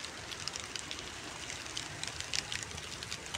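Steady rain patters onto the leaves of a guava tree, a dense broadband hiss with scattered brighter droplet taps throughout, fairly quiet and continuous with no voices.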